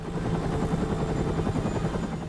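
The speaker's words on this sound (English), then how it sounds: "I'm sending a chopper." Helicopter in the video game Stranglehold, its rotor beating in a rapid, steady chop that sounds close and fairly loud throughout the short stretch.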